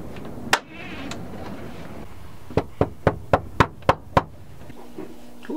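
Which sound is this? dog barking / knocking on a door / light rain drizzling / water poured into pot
knocking on a door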